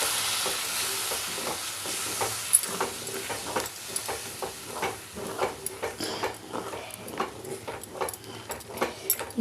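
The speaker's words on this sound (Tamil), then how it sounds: "ஊற்றி நல்லா கலந்து விட்டு கொதிக்கட்டும்" Horse gram curry is stirred in a pot as it comes to the boil, with repeated soft scraping and tapping strokes over a low sizzle, close and fairly quiet, growing more rhythmic toward the end.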